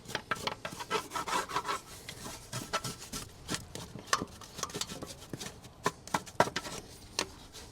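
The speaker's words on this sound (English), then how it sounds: "I'm just going to brush off some of the dirt around on the tappet cover around the edges." Stiff brush scrubbing dirt off the tappet cover of a supercharged V8 two-stroke Detroit diesel in a Kenworth truck, a close series of short dry scratchy strokes in uneven bursts, with no talking.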